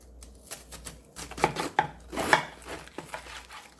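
A knife slicing radish into thin flat squares on a cutting board, a quick series of close, crisp taps and thuds of uneven rhythm, with no talking.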